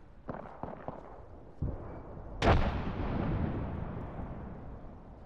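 A frag grenade blast in the battle royale game Apex Legends, one loud sharp boom followed by a long rumbling decay, preceded by a few light clicks and thuds.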